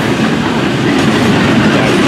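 Loud, close rumble of a freight train rolling past, with a steady rhythmic clatter of wheels on track throughout.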